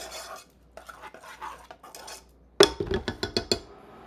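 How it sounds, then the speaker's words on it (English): A metal spoon stirs and scrapes in a nonstick pan while chocolate raspberry quinoa cooks, first soft scraping, then a run of sharp, close clinks and knocks against the pan. "Use metal spoons in your nonstick pans."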